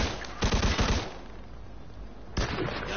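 Gunfire in the video game Mafia II, two short bursts of rapid automatic shots, loud and close, with a quieter lull between them.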